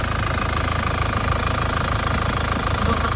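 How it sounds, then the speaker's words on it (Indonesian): A 2009 Isuzu Panther Grand Touring diesel engine idles steadily and evenly, a loud continuous rumble with a regular low knocking pulse and no misfire, running alone without voices. "Mesinnya juga masih stabil banget ya, tidak pincang sama sekali ya."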